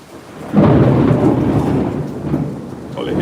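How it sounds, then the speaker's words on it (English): Thunder rolls loud and close through a steady rainstorm, with a sharp swell about half a second in and a long rumbling tail under continuous rain. "All you hear that thunder?"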